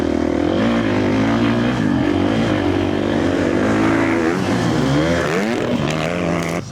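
A car lapping a track with its engine droning steadily and loudly throughout, revving and shifting pitch as it works through turns.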